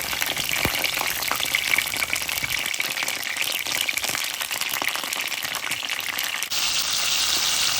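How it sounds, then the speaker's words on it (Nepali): Brinjal slices sizzle and crackle steadily in hot oil, a dense, continuous frying hiss close by with occasional pops, turning briefly brighter near the end. "हामीले यसरी पल्टाइ यसलाई फ्राई गरिरहेका छौँ"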